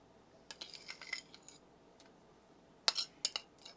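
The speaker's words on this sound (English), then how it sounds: "Scrape that bowl clean." Utensil scraping mayonnaise from a bowl for a Frito corn salad, a few soft scrapes followed by sharper clinks of metal against the bowl, close and fairly quiet with no talk.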